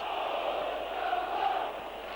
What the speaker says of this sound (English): both sets of supporters have gone very quiet, particularly the home side, but now they cheer up a bit